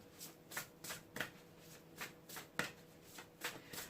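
Oracle cards of the Shaman's Dream Oracle deck being shuffled by hand for a tarot reading, a quiet run of quick papery riffles and flicks in an uneven rhythm, close up with no talking.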